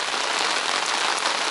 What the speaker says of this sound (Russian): красивейший дождик.